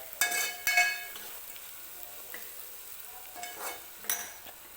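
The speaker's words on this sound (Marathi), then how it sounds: "हा मसालासुद्धा व्यवस्थित तेल सुटेपर्यंत आपल्याला तेलामध्ये भाजून घ्यायचा आहे" Masala paste roasting in oil for mutton curry, a quiet sizzle broken by several scraping strokes of a spatula in the pot, spaced irregularly and close by.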